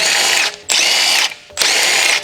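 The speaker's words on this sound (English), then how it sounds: "Using the large 23mm short socket, large short extension bar, and large impact wrench, remove the front wheel lug nut." A large impact wrench with a 23mm socket on a short extension loosens a front wheel lug nut on a Dodge Ram, firing in three loud, close buzzing bursts separated by brief pauses.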